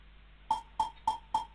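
Four crunchy, bit-crushed percussion hits from a BandLab sample, evenly spaced about a third of a second apart, each a short gritty pop with a lo-fi digital edge over a low hum.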